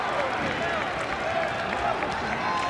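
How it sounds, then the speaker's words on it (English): A crowd claps at a high school boys basketball game in a gym, a steady wash of applause and murmur that holds at an even level throughout. "Claps."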